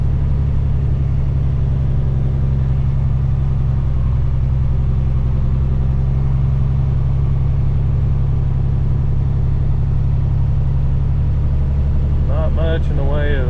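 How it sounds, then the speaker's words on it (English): A car creeps slowly along a narrow driveway, its low engine rumble steady and close throughout, with a brief voice-like tone near the end. "See if I can do this without driving off of this."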